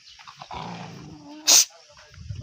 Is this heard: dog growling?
yes